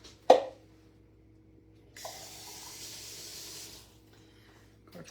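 After a sharp clink, water streams into a cup for about two seconds in a soft, steady hiss, then stops, leaving near silence.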